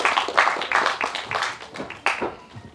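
Audience applause at a music launch event, a crowd clapping in uneven bursts that swell and fade several times, fairly close and lively, with no talking over it.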